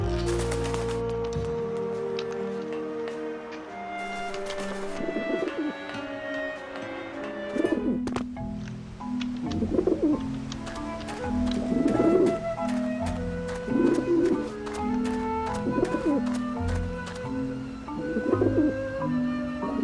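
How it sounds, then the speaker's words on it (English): Pigeons coo in a video game scene, repeated soft throaty coos in a loose rhythm over a steady background of music and ambience. "Creepy pigeons."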